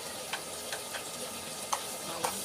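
Ginger, garlic and onion sautéing in a pan, a quiet steady sizzle with a few light clicks of a spatula, no voices.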